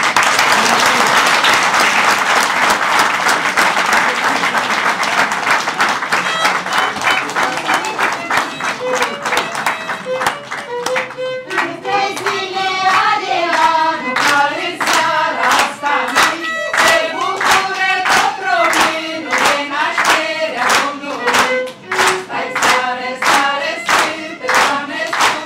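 Audience at a national party council meeting applauding loudly and continuously, the broad clapping wash settling into more distinct individual hand claps with some crowd voices throughout.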